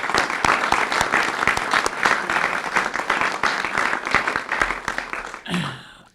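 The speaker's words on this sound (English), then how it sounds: "So please join me once again for a big round of applause." A large audience gives a sustained round of applause at a government announcement on rebuilding Eastern Kentucky, dense clapping filling the room before it tapers off and fades near the end.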